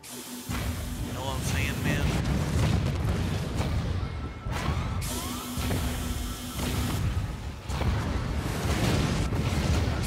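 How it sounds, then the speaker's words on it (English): Repeated heavy booms and rumbling blasts as bombs hit a city in the video game Spore, loud and continuous with dense layered explosions and a brief lull midway. "So I assume I can just keep bombing it over and over."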